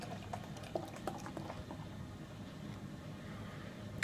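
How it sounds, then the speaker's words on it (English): Lagunitas Sucks IPA poured aggressively down the center of a glass, giving a steady fizzing, foaming rush of liquid with a few small clinks, close up and continuous, with no talking. "I'm going to pour this down the center pretty aggressively."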